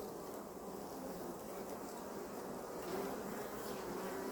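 Honey bees around a hive with a dry feeder, a steady close buzzing hum of many insects lasting the whole stretch at fairly low level, with no talking.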